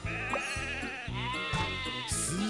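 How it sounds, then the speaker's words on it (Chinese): Sheep bleat repeatedly in the Thomas Magic Tracks video game, several wavering cartoonish bleats in a row over steady background game music. "一些绵羊从农场走散了，你能帮忙把它们拽回羊圈里吗？"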